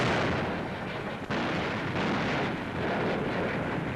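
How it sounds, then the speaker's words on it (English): Captured German artillery guns fire shells on the Western Front in World War II, a dense, loud, rumbling roar of continuous booming with a sharper crack near the middle, sustained throughout with no voices. "Up in the hills, captured Nazi guns now lob shells against their former German masters."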